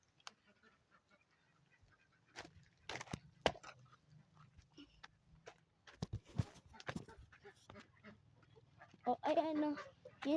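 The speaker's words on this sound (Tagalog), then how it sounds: "Ayan yun ang mga pato." Ducks on a farm give faint scattered quacks among rustles and handling noises, with a clearer burst of quacking near the end, while a person speaks over it.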